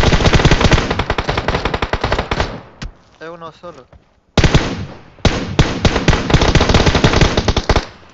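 Rapid automatic gunfire from PUBG Mobile during a tournament match, loud dense bursts filling most of the clip with a brief lull where a voice speaks, then firing resumes strongly.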